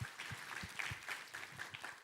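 Church congregation applauding during a Sunday worship service, steady moderate clapping with irregular louder claps, moderately distant, no talk.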